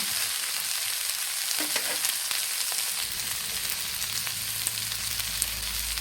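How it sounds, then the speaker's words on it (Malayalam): Jackfruit, onion and green chilli sautéing in a pan, giving a loud, continuous close sizzle with faint scrapes of stirring throughout. "ഇതെല്ലാം കൂടെ നന്നായിട്ട് വഴറ്റിയെടുക്കുകയാണ്."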